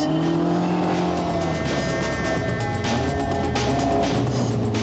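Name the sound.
rear-wheel-drive sports car driving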